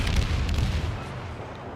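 Naval guns of the destroyer Kiev fire at extreme range in the World of Warships video game: heavy booming blasts, loudest at the start, fade into a rumbling tail.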